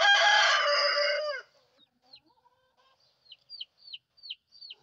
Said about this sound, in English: The chickens heard them and they just come running.